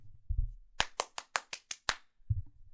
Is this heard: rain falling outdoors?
no